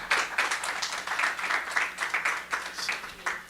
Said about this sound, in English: I'm going to give them a round of applause for the wonderful work